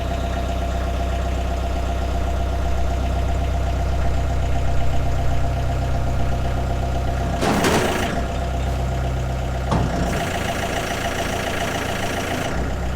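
An engine idles steadily on a machine fitted with a front auger, with a low, even rumble close by. A couple of sharp clanks and rattles break in partway through.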